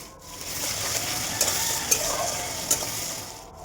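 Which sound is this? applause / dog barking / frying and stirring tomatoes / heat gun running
frying and stirring tomatoes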